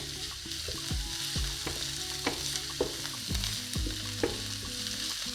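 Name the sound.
spring onion and garlic frying in olive oil in pan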